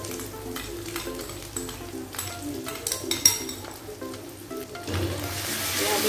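Kwetiau stir-frying in a hot pan with chili sauce and sweet soy sauce, steady sizzling with scraping and clinks of the spatula as it is stirred, the sizzle swelling louder toward the end.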